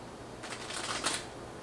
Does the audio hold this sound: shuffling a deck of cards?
yes